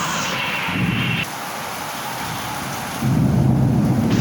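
Heavy rain pours across a town during a thunderstorm with lightning. A dense, continuous downpour roars with low rumbling underneath, swelling louder in the last second or so.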